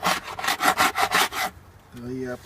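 A tool scrapes propolis and old wax off a wooden beehive in quick rhythmic strokes, about seven rasping passes, followed by a short pause and a faint tonal sound.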